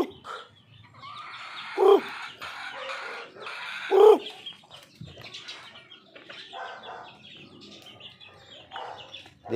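Pet chicks and birds chirping among pillars, with scattered high peeps and a couple of louder squawks, close and lively, with no talking.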